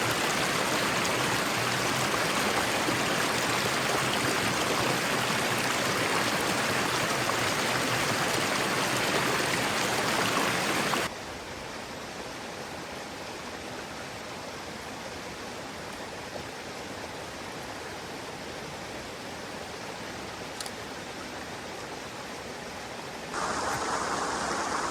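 Water runs down a small stream as a steady, broadband rushing. It is loud and close for about eleven seconds, then drops to a quieter, more distant flow, and it swells again near the end.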